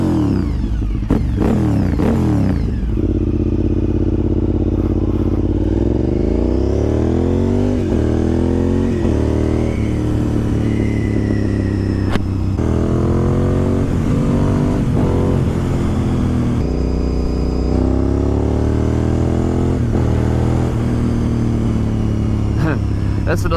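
A warm Honda RC51 V-twin sportbike with carbon fiber wheels idles loudly and close, its engine rising and falling through repeated revs for over twenty seconds, with no talk over it.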